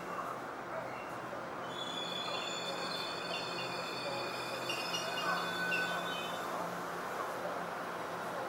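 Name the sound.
Hello Kitty train at station before departure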